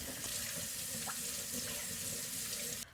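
Tap water runs steadily into a kitchen sink while a cutting board and knife used on raw pork belly are washed, a close, continuous hiss that cuts off abruptly at the end.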